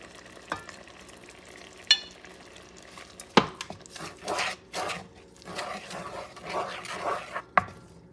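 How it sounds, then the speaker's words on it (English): Ingredients being stirred into a pot of Puerto Rican shrimp stew, with intermittent scraping and clinking strokes and a few sharper knocks against the pot, close up and with no talking. "And now what you do is you get this ingredient and you mix them up."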